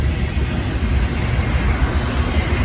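A westbound Norfolk Southern and JB Hunt double-stack intermodal freight train rolls past close by, a loud, steady broadband rumble and rail roar that holds without a break.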